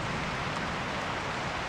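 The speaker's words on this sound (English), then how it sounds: "as soon as I ended that last clip, started to rain" Rain falls outdoors at a fishing spot, a steady even hiss of drops on surfaces that carries on without a break and without talk.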